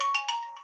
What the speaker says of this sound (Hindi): इतने फोन आ रहे हैं यार आज तो।